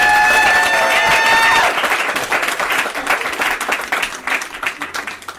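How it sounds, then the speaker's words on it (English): A crowd at a South Side political meet-and-greet claps for Nina Turner, starting as a loud, dense burst, then thinning into scattered claps that fade toward the end. "please give Senator, President, Sister, Miss Nina Turner another round of applause"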